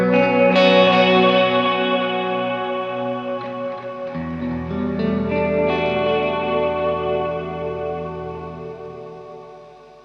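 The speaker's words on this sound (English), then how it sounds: "I've got a mono delay going into a stereo delay, going into a stereo reverb" An overdriven electric guitar, run through a mono delay into a stereo delay into a stereo reverb, plays ringing chords and notes that smear into long echoing delay repeats and a spacious reverb tail.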